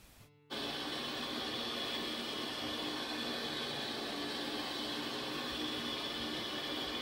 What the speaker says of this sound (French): on a le son du ventilateur aussi